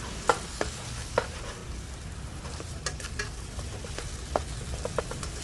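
Minced fish stir-fried dry and spicy in a pan, a soft continuous sizzle under sharp, irregular scrapes and taps of a spatula against the pan, close and fairly quiet.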